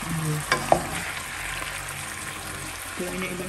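Meat fries in Star margarine in a pan, giving a steady close sizzle with a few sharp pops and the scrape of it being turned, alone with no talk.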